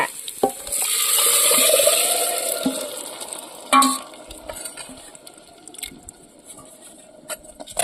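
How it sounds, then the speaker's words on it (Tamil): Spices tempering in hot oil for a cowpea kuzhambu, a burst of loud sizzling that swells then settles, with stirring scrapes and sharp clinks of utensils against the pan. "குழம்ப ஊற்றி தாளிச்சுக்கலாங்க"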